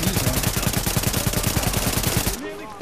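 Rapid automatic gunfire from the video game The Division, a loud sustained burst of dense repeated shots that stops abruptly, followed by quieter game ambience.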